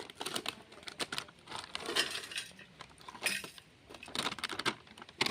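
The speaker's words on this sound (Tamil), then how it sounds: "நெக்ஸ்ட்டு லேஸ்ன்ட்டு பிங்கோவை பிச்சுக்கிட்டு இருக்கா பாருங்க" Crinkly plastic Lay's and Bingo chip packets being torn open and handled up close, a busy run of sharp rustling crackles and snaps with no talking.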